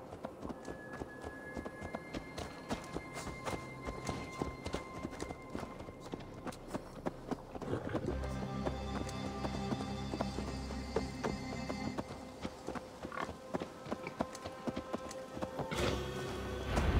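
Horse hooves clip-clop in Assassin's Creed Valhalla, an irregular series of close, crisp hoofbeats over game ambience, growing busier and louder partway through.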